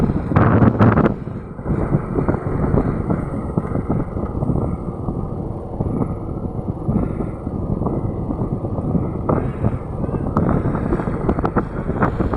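Wind buffets the microphone during a motorcycle ride on a high mountain road to Dumalag, Capiz, a loud rumbling roar with gusty bursts throughout, heaviest at the start, with engine noise beneath.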